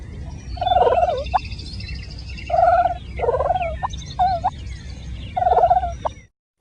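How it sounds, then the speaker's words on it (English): Wild turkey hens purring softly while feeding on the ground, several short rolling trills spaced a second or two apart over a low rumbling background, close and moderately loud. "While on the ground, hens purr while feeding."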